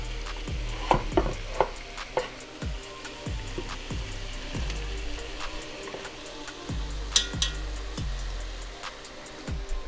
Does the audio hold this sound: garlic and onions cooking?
yes